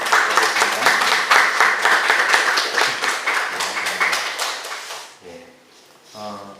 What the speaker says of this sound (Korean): 우리 박수로 한번 하겠습니다